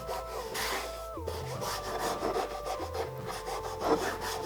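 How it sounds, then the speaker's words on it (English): Oak boards are resawn on a bandsaw, a steady, close rasping hum of the blade cutting wood with slight shifts in pitch as the feed changes. "Then, I took them to the bandsaw to resaw them into halves."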